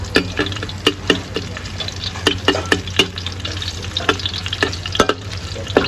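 Egg and minced pork dumplings frying in hot oil in a wok, a loud close bubbling sizzle broken by frequent sharp clinks and scrapes of a utensil against the pan.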